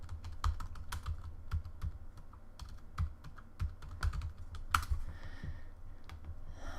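Keys clatter on a computer keyboard in short bursts of quiet, crisp taps with uneven rhythm and brief pauses, close and alone.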